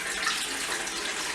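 Warm water from a kettle poured into the bath of a SEVERIN sous vide cooker: a steady, close, even rush of pouring water that runs without a break and with no voices.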